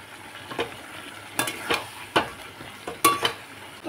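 Mutton and chopped onion are stirred as they fry. Several distinct scraping strokes of a spatula against the pan rise over a low, quiet sizzle in an uneven rhythm.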